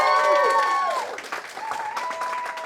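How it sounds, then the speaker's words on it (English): A small audience claps briefly at a community climate talk, a light patter of hands beneath strong tonal voices or whistling that sweeps and holds over the first second, then thins to scattered claps. "Can we give a round of applause?"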